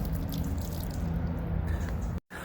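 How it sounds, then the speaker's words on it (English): Water draining steadily out of a frost-free outdoor hose bib, a continuous close splashing trickle that cuts off abruptly near the end. "Can you see that water coming out?"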